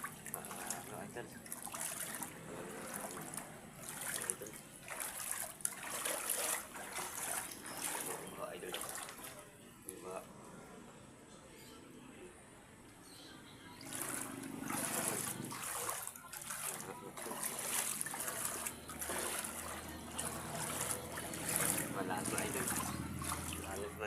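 Floodwater runs steadily in a steady broadband rush that swells and dips over about 24 seconds, with someone talking over it throughout.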